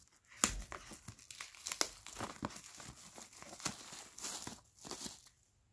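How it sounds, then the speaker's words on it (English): Plastic packaging on a Kingdom Hearts 3 Deluxe Edition game box is unwrapped, with steady close crinkling and crumpling, sharp tearing snaps and rustling that carries on without talk. "I'm going to stop talking about Kingdom Hearts for a few minutes while I finish unwrapping all this packaging."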